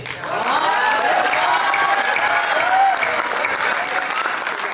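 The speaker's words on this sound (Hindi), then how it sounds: "आपकी तालियां थोड़ी और बढ़ाइएगा" Sustained applause from the audience at a journalists' council poetry recital (kavi sammelan) in Paota, a dense, steady wash of clapping with no pauses, loud and close throughout.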